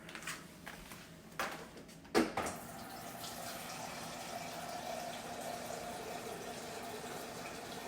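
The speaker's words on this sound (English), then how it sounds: "so now we're going to get 2 cups of water" Tap water runs into a container, about two cups measured for cooking rice, with a few knocks and clatters at the start before a steady, fairly quiet filling flow continues.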